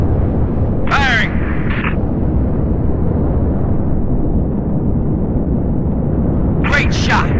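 Continuous heavy booming roar of station defense cannons and explosions in the video game Halo: Reach, loud and dense throughout, with brief radio-style voice chatter over it at the start and end.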